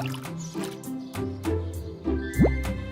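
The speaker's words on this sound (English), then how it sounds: "The owl is blowing bubbles." Bubbles blown through a straw into a homemade soap-and-water mixture, giving soft wet bubbling and dripping plops in a loose, irregular rhythm, close and quiet.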